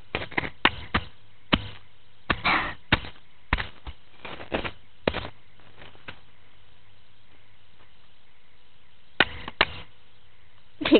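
An abandoned bee hive is chopped open, with a string of sharp, separate hacks and cracks spread irregularly over several seconds and a longer pause before a final few strikes.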